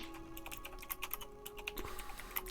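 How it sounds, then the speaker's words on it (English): Computer keyboard typing picked up over an online voice chat: a quick, uneven run of faint, close clicks and clacks, with no speech over it. "Alright, who's typing?"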